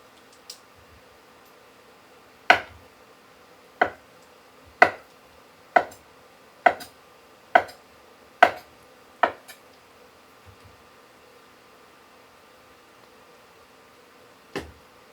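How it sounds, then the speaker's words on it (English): A kitchen knife chops and dices potatoes on a cutting board for loaded baked potato soup: about eight sharp, evenly spaced chops, then a pause and one last chop, close and crisp with no talking. "I'm going to quickly start chopping up my potatoes,"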